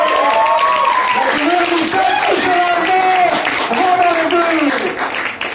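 An audience applauds with a dense, continuous wash of clapping while a voice talks over it throughout.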